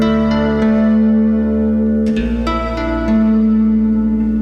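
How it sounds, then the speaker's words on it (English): A harp played across its full range through a reverb pedal, plucked notes ringing out alone with long, washy tails and a few sharper attacks in the middle. "I'm going to use this reverb pedal on the full range of my harp"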